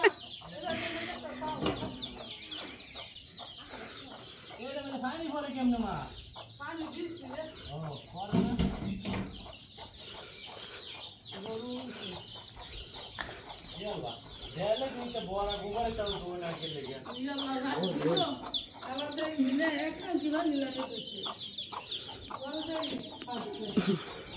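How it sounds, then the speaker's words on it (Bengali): Chickens clucking and calling as they are let out of the coop at a rural Bangladeshi home, with repeated clucks through the whole stretch and some faint background sound. "মুরগির ঘর থেকে মুরগি ছাড়তেছে"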